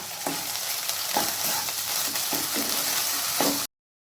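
Yogurt being stirred into a sizzling spice paste, a loud steady frying hiss under rhythmic scrapes of a spoon against the pan, close and continuous before stopping abruptly.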